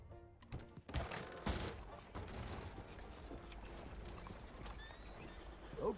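Horse hooves clip-clopping in Red Dead Redemption 2, a steady rhythmic gait with a few heavier thuds near the start, close and moderately loud, with a brief whinny-like sound at the end.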